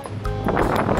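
Strong wind buffets the microphone at Picnic Grove in Tagaytay, a steady loud roar with gusty swells that builds after a brief quieter start, with no voices.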